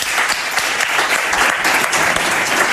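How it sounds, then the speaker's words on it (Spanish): A crowd applauds loudly for a drummer at a live show in Málaga, dense continuous clapping filling the whole stretch with no break. "Un aplauso para él, Málaga, os pido."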